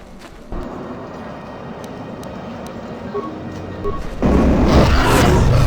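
Loud roar of a beast running out of control in the Star Wars Knights of the Old Republic II video game, a rumbling growl that swells and becomes louder and denser near the end, with no speech over it.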